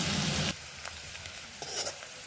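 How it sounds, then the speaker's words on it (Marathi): Garlic frying in hot oil for a tempering with cumin, turmeric and curry leaves, a loud burst of sizzling that drops quickly to a softer, steady crackle with a few sharp spits. "लसूण तळून घेऊया."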